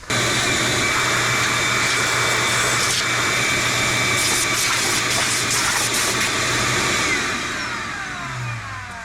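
A vacuum cleaner roars loud and close while cleaning out a truck cab, a steady drone that holds for several seconds before easing off slightly near the end.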